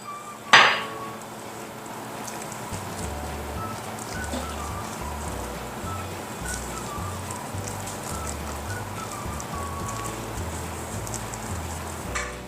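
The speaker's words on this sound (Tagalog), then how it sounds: "Tapos, i-mix lang natin ito." Coconut macaroon cake ingredients with food colouring and vanilla being stirred in a bowl: a sharp clink at the start, then steady, even scraping and clattering of a utensil against the bowl, close and continuous for several seconds.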